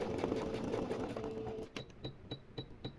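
A domestic sewing machine stitches a straight-stitch embroidery outline up close, first a quick run of needle chatter, then a series of evenly spaced single clicks.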